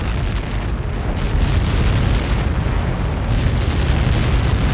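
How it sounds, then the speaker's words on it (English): Blast from a Helios projectile impact in the video game Ace Combat 7, a sustained deep rumbling boom that rolls on steadily and loudly for several seconds with no voices over it. "How many got caught in that explosion?"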